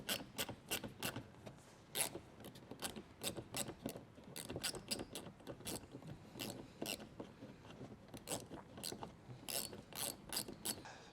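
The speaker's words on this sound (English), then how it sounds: "what I have is just a 1/4 inch bit that I put into a ratchet like this" A ratchet fitted with a 1/4 inch bit backs out screws under the wheel well of a 2023 Chevrolet Traverse, giving a rapid, uneven run of crisp clicking in bursts, close and fairly faint.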